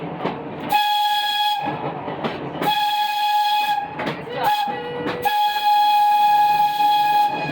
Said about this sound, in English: You guys hear the sound of that whistle?